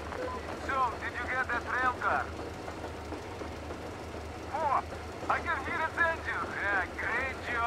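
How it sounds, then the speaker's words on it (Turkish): A low, steady engine drone rumbles underneath in the post-apocalyptic shooter Metro Exodus, while someone talks over it in bursts. "Motorun sesini duyabiliyorum."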